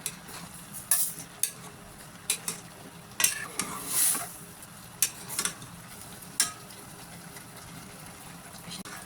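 Food being stirred in a pot with a spoon, a series of brief scraping and clinking strokes against the bottom at irregular intervals over a faint sizzle, fairly quiet and without talk.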